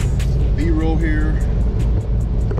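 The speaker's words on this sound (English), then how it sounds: "We are flying down the highway right now." Car speeding along a curving highway between Ruidoso and Roswell, a loud, steady road and engine roar with a voice talking over it throughout.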